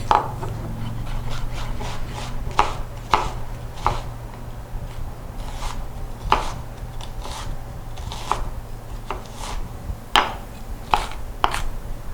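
A knife chops onion on a board while a creamy cucumber salad is made, giving about a dozen sharp, irregular cuts over a low steady hum, fairly close and with no talk.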